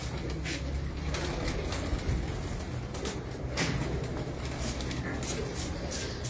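Pigeons on a rooftop in Multan give soft, low, repeated cooing over a steady background hum. Faint voices are heard in the distance.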